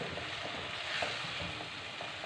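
Chicken Afghani karahi with yogurt fries in the pan, a constant crackling sizzle with light stirring scrapes throughout, close but fairly quiet, with no one speaking.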